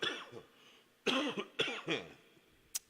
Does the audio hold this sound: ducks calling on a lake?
no